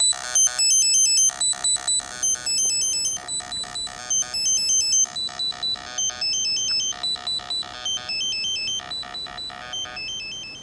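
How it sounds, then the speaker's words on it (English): Bright, bleepy chiptune melody from a Game Boy running LSDJ through a Korg monotron analog synthesizer plays in choppy square-wave bursts, a quick repeating pattern of high tones with short gaps, loud and without voices. "This is a Game Boy with LSDJ on it."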